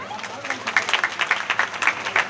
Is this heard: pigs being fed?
no